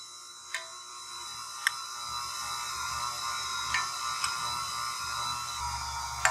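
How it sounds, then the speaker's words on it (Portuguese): A stand mixer whirs steadily on low speed while powdered milk is added to a cake batter for jar cakes, a constant close motor drone broken by a few sharp ticks and clicks. "Eu vou ligar minha batedeira aqui no fraquinho"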